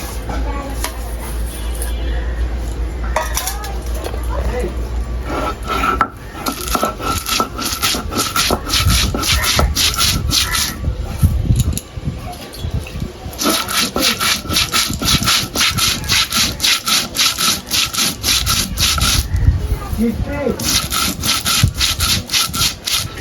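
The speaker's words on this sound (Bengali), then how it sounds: "এখানে মাছ রান্না করার জন্য মশলা বেটে নিব এখানে আছে ধনে জিরে আর গোলমরিচ" Coriander, cumin and black pepper are ground by hand on a stone for a fish curry, making a loud, rhythmic scraping and rubbing that repeats in steady strokes with a short pause midway.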